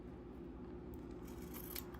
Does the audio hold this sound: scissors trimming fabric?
yes